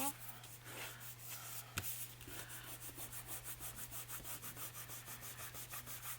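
Rubbing tacky glue off the edge of a craft journal, a soft rhythmic scrubbing of fingers or cloth on paper repeating steadily, quiet and close, with a single sharper tap early on.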